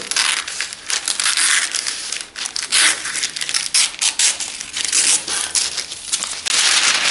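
Strips of paper being torn off in a kitchen while making maple caramels, heard close and loud as crinkly, crackling rips and rustles in uneven bursts throughout.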